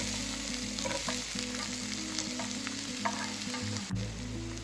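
Chopped shallots, ginger and garlic frying for Kerala beef roast, a dense, loud, steady sizzle with occasional stirring scrapes and a low background hum throughout, no voices.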